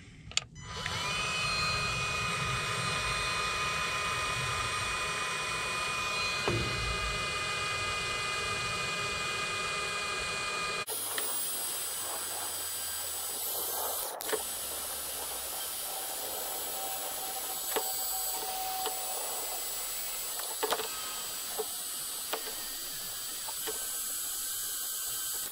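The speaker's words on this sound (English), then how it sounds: "now I'm going to take the heat gun here, and we're going to shrink these fittings first." Heat gun shrinking fittings on trailer brake wiring while replacing brakes on Lippert 5200 lb axles: a steady, fairly loud blowing roar that runs the whole time and changes tone partway through, with small clicks and clatter on top.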